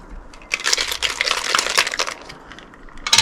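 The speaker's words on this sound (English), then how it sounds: "Okay, give that a shake." A cocktail shaker filled with ice and an espresso martini mix is shaken hard, giving a loud, dense rattle of ice that builds, fades, then ends with a final sharp knock.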